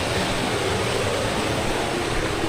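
Steady rushing of a mountain stream in Burauen, Leyte, a continuous broadband wash with no pauses, fairly loud and close.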